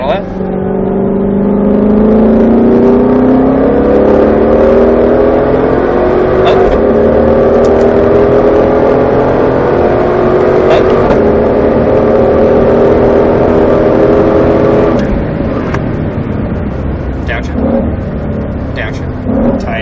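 A Shelby GT500 engine pulls hard on a race track, its loud rising drone climbing in pitch as the throttle opens and holding steady near the microphone, with brief dips as it shifts and a driver talking over it.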